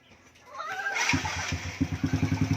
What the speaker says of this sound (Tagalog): One click na ulit ang motor ni sir.